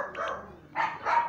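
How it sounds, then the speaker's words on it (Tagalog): A dog barks in a Mini World game, two quick faint yips followed by two louder barks close together, with no talk over them. "Ingay ng aso."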